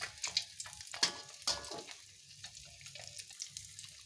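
Catfish frying in hot oil, a soft steady sizzle broken by several sharp spattering pops near the start, quieter and more even toward the end.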